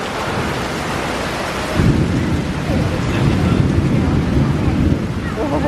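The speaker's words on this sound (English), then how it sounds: "It's thunder and lightning, the rain is crazy." Heavy rain pours down during a thunderstorm at an outdoor theme park, a steady dense roar that swells louder partway through, with a low rumble of thunder mixed in and wind buffeting the microphone.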